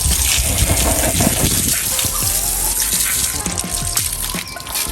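A strong, loud, steady water spray washes an engine with a homemade caustic-soda degreaser, rushing and splattering close by without pause.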